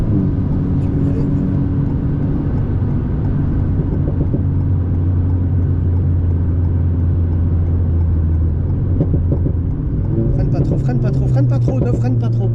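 A Lamborghini STO sports car goes by on the Bugatti circuit during a track coaching session. Its engine drone is steady under continuous talk, and a brief rise comes near the end.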